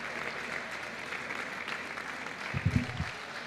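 Applause fills a conference hall for Pau, soft and distant with a steady wash of clapping, and a brief low thump near the end.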